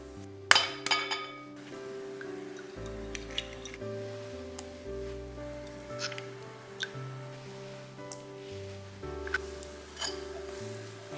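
Egg yolks are stirred into mango roll cake batter in a bowl, making soft wet squishes and light clinks of utensil against the bowl, with gentle background music throughout.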